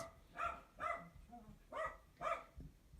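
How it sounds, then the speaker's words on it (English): Several sharp dog barks in quick succession, fairly distant and moderately loud, in pairs with short pauses between. "my dogs are barking as usual"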